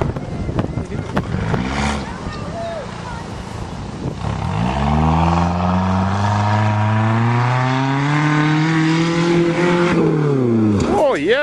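A 1992 Toyota Corolla engine revs hard and climbs in pitch for several seconds as the car launches toward a table top jump on a farm, with wind noise and brief voices near the start.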